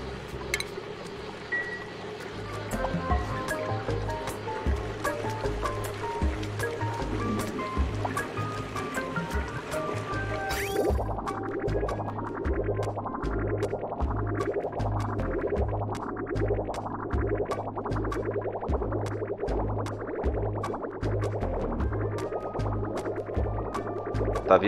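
Water flowing in the Oxygen Not Included video game, a steady soft rushing and gurgling stream beneath looping game music with repeated rising tones, faint and continuous throughout.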